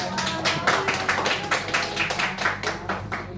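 A class applauds a student during a classroom-management practical exam session. The claps are loose and rhythmic in rolling waves, close by and moderately loud, with a low background hum beneath.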